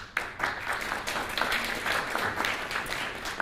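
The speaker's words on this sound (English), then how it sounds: "take a moment to give yourself a round of applause" An audience at a Canada–Taiwan global health friendship forum gives a round of applause: dense, even clapping from many hands that holds steady for a few seconds.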